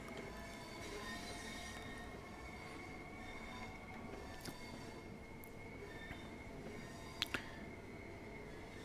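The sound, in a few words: train braking to a stop in a train simulator video game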